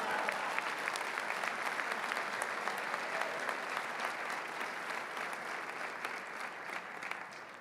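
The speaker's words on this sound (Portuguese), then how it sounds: "Pode dar uma salva de palmas ao Senhor" A conference church congregation claps for a long stretch, a continuous, even wash of applause that sounds somewhat distant and fades slightly toward the end.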